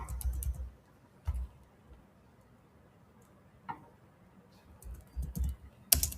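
A code shortcut is typed on a computer keyboard, giving a few scattered, quiet key clicks and short taps separated by long gaps over a faint room hum, ending with a sharper click.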